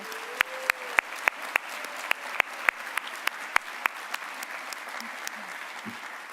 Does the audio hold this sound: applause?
yes